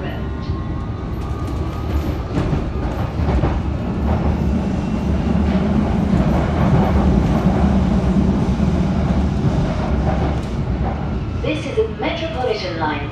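A London Underground Metropolitan line train rumbles and clatters along the tracks between Finchley Road and Baker Street, loud and continuous, with a brief rising whine near the end.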